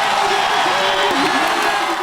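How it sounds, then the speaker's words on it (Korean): Crowd of citizens gathered in downtown Gwangju erupts in sustained, loud cheering right after a penalty kick goal by Lee Kang-in for South Korea, a dense roar of voices filling the space. "이강인 선수의 페널티킥이 상대 골문을 가르는 순간 광주 도심에는 일제히 환호성이 울려 퍼졌습니다"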